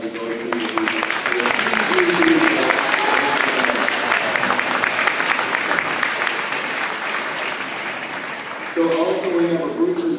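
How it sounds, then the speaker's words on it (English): Loud, steady applause from a school band concert audience at WHS, filling the room continuously for several seconds, with some voices and chatter mixed in near the end. "So if we give a round of applause for those people."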